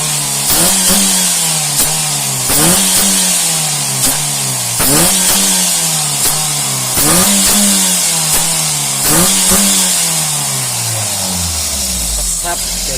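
A tuned Mitsubishi L300 engine is blipped in short, sharp revs about every two seconds, roughly six bursts rising and falling back to idle, loud and close, with someone talking between them.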